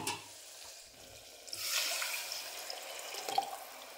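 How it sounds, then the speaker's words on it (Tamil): Water poured into a cooking pot of lightly scorched food before the rice goes in, a steady splashing rush swelling in the middle and trailing into faint drips, close and fairly quiet with no talking. "இப்போ நம்ம தேவையான அளவு தண்ணி ஊற்றிடலாம்"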